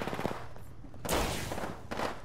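Gunfire in Apex Legends, sharp automatic bursts crackling at moderate distance, two distinct loud flurries over a quieter, rattling background.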